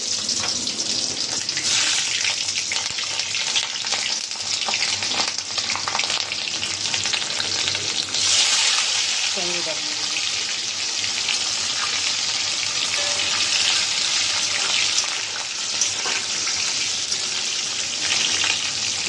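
Spices sizzling in hot oil in a home kitchen pan, a steady loud frying hiss running throughout with occasional stirring scrapes, no talk.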